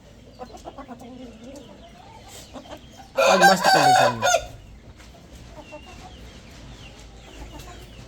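A healthy Lassani breed rooster gives a loud, close crow of about a second and a half. It is surrounded by softer clucking and chicken sounds from a flock, and someone speaks briefly.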